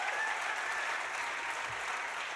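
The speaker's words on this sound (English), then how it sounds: "please give me a big round of applause" Audience applause for a group of little children in an after-school Armenian language program at a commemorative event, steady hall-filling clapping that stays even throughout, heard at a moderate distance.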